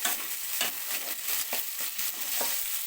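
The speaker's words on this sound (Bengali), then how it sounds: "এবার এটাকে আমি হালকা করে নাড়বো প্রথমে" Onion, capsicum and spring onion sizzle in a pan for chilli chicken, with a steady close hiss broken by regular scraping stirs every half second or so, and no talking.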